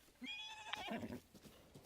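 A horse in the Zelda: Breath of the Wild video game lets out a short, high whinny that drops in pitch, followed by a few soft hoof clops. The sound is quiet and close.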